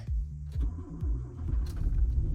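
Car engine cranking and catching on a freezing winter day at minus 15, several low rumbling turnover bursts before a rough, uneven idle settles in, close and fairly loud with no talk.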